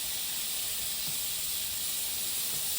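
Prawns for garlic chilli prawn pasta hit hot oil with a loud, continuous hiss and sizzle, close and unbroken for the whole moment, with no voices.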